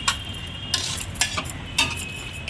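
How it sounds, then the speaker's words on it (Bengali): Chicken paneer fry with green chillies and tomato sauce stirred in a pan, heard as a few close scraping strokes at uneven intervals over a low, steady cooking hiss. "ভালো করে নাড়াচাড়া দিই"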